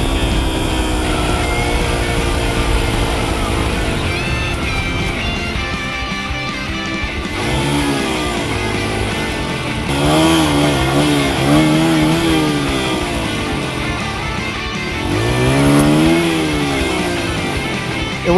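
Honda CRF 80F five-speed dirt bike engine while riding, revving up and down through gears with rising and falling pitch sweeps, loud and close throughout.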